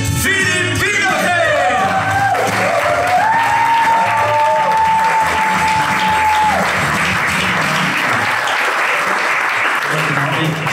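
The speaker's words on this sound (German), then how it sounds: "Herzlichen Applaus, da ist er" A stand-up comedy audience in St. Gallen applauds warmly as the comedian is introduced, a dense, sustained burst of clapping with a few whoops and a brief whistle early on.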